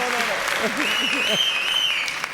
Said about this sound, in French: N'applaudissez pas trop fort.